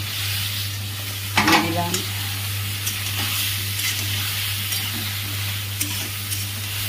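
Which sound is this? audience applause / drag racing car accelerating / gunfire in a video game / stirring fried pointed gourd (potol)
stirring fried pointed gourd (potol)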